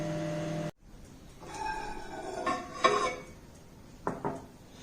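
A microwave hum cuts off abruptly, then a spoon scrapes and clinks against a bowl as Mysore pak mixture is stirred, with a few sharper taps near the end.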